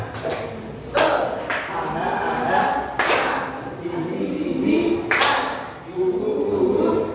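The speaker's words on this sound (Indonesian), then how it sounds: "Baik, tepuk semangat." A classroom of students performs a rhythmic spirit clap (tepuk semangat), with several sharp bursts of group clapping rising over a murmur of voices and background chatter.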